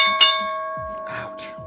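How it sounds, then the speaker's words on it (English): Stock market opening bell ringing with a clear sustained metallic tone that decays slowly, struck once near the start, with faint voices and clatter underneath. "there's the opening bell"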